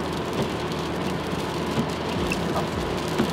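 Rain drums steadily on a moving car during a drive, a dense even patter with the low rumble of the vehicle underneath and a few louder drops standing out, heard alone without talking.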